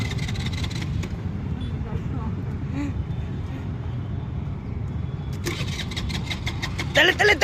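A car engine cranks and catches while being push-started on a road by a petrol bunk, running steadily at idle under a continuous rumble, with a louder burst of revving near the end; people talk and shout around it.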